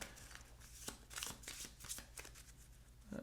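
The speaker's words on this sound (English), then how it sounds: "I will shuffle it again." An Arkham Horror card game deck is shuffled by hand in a run of crisp riffling bursts and soft slaps, close and quiet, with no talking.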